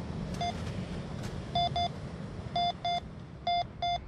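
An entry-level Minelab Go Find 66 metal detector sweeps a UK beach and sounds a string of short clear electronic beeps, mostly in quick pairs, standing out above the soft background hiss of wind and surf.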